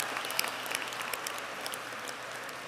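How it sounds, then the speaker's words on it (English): Audience applauding steadily at a College of Engineering spring commencement ceremony, a dense even wash of many hands clapping, moderately distant, with no talk. "let's clap for that"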